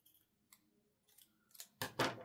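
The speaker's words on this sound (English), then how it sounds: "Cut that carefully, and then I do want to cut off that ripped edge." Scissors snip through washi tape in a few faint, close cuts, building to a louder, sharper snip at the end.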